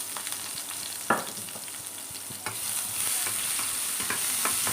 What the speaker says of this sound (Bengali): এখন এই তেলের ভিতরে দিয়ে দিচ্ছি আমি পেঁয়াজ রসুন কুচি